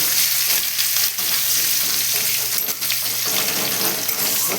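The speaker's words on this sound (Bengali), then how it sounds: "আর একটু রসুন দিলাম এবার এগুলোকে একটু ভেজে নেব" Garlic and ginger frying in oil for masoor dal make a loud, steady sizzle close up, with faint stirring and no talk over it.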